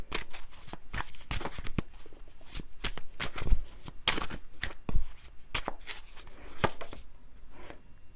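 Tarot cards being handled and shuffled, a rapid series of crisp riffling slaps and flicks, close and fairly loud, continuing in bursts throughout with no talking.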